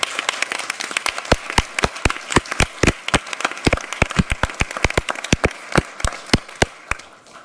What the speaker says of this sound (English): let's give our CBI staff a round of applause